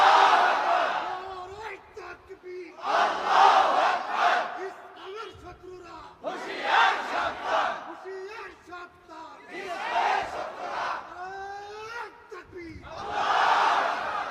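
A large crowd at an Islamic sermon gathering roars takbir, Allahu Akbar, in repeated loud bursts of several seconds each, with short pauses between the chants.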